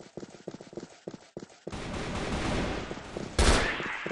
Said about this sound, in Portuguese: eu tô lá dando tiro em todo mundo